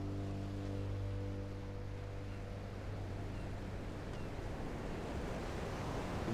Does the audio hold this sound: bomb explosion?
no